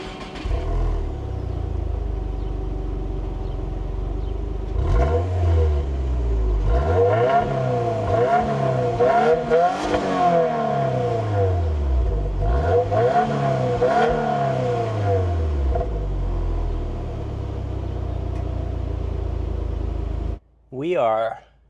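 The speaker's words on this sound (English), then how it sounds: "We'll do a startup and exhaust sound so you can listen to the exhaust right now." A Subaru WRX TR with a boxer engine starts up and revs hard, its exhaust climbing and falling through several loud throttle blips close by, then idling before a brief final burst.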